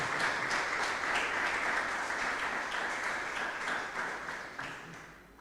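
A church congregation applauding, a dense wash of many hands clapping loud and steady, gradually thinning out toward the end.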